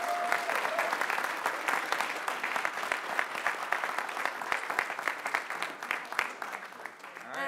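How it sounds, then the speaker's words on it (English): An audience at the closing of a Bitcoin expo applauds the organizers and volunteers, a long, full round of dense clapping that stays strong throughout with a few louder individual claps. "So a round of applause to them and the volunteers"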